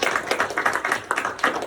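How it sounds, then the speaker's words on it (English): A room of men at a leadership talk claps briefly, with a quick run of sharp, uneven hand claps lasting under two seconds and no speech. "Clap it up for yourselves"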